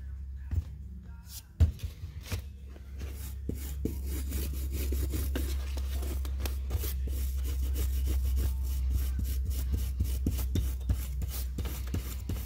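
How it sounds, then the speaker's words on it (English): Brass bristle brush scrubbing a dirty Carter BBS carburetor coated with carburetor and choke cleaner, a quiet, steady rasping scrub in quick repeated strokes, with a couple of sharper knocks early on. "So I'm using a brass bristle brush and some carburetor and choke cleaner."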